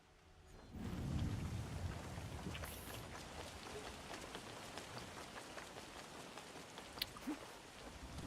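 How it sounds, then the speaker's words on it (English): Steady heavy rain from the game Assassin's Creed Shadows, a dense continuous hiss with a low rumble of thunder near the start and a few sharper drop hits later, no talking. "especially when it's like rainy or like those heavy water effects on the screen"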